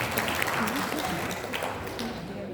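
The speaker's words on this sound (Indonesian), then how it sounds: "Luar biasa, tepuk tangan buat para pendidik." An indoor audience of teachers at a formal Indonesian language-agency gathering breaks into applause, a dense patter of many hands heard under a speaker's voice through a PA, fading toward the end.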